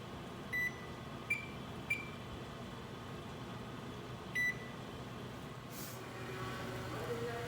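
An oven timer being set for baking a chicken pot pie gives four short, clear electronic beeps, two close together and two more spaced out, over a steady low kitchen hum.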